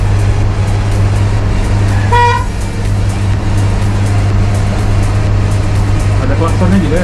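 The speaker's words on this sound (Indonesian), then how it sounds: "Ada klaksonnya juga ya Pak?" Horn of a driverless autonomous bus in Indonesia, a short series of electronic tones near the middle, heard over a steady engine hum and a loud interior background, with faint speech.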